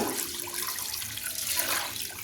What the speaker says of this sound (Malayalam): വെള്ളത്തിൽ കൊതിത്തിട്ട് എടുത്തിട്ട് രണ്ടാം പാൽ ഒഴിച്ച്